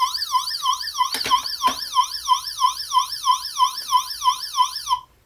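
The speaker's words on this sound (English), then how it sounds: "Who doesn't love little sirens, right?" A Power Rangers Turbo Robo Racer toy plays its electronic siren, a fast wailing tone that rises and falls over and over for about five seconds, with a couple of sharp clicks early on, then cuts off.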